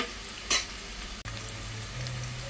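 Slices of bitter gourd fry in hot oil, giving a low, even crackling sizzle close by, with one brief sharp clink near the start and no voices.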